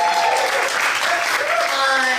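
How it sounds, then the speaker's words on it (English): Comedy festival audience clapping during a live improv podcast taping, a steady dense wash of applause lasting a couple of seconds with some voices mixed in. "You can clap for him."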